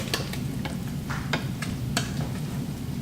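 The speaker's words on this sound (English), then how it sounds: "Give that all a quick stir." A spoon stirs scallop risotto with corn just added in a pot over a soft, steady simmer, giving a few close scrapes and taps against the pan, alone and fairly quiet.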